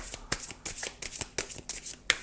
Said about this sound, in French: Alors je vais tirer une dernière carte, un dernier message